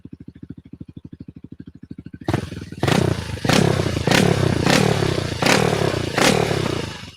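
A motorcycle fitted with a new exhaust idles with a steady putter, then bursts into loud, rough revving with about six sharp throttle blips in a row, close and harsh against a backdrop of clatter.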